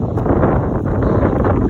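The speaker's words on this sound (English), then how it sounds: "Very windy." Strong wind buffets the microphone outdoors, a dense continuous low roar with gusty rumble throughout.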